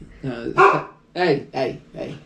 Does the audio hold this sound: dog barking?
yes